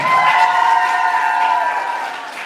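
Applause from an audience at a school graduation beauty pageant, a steady wash of clapping held at an even level for a couple of seconds and thinning slightly toward the end, with a faint sustained tone underneath.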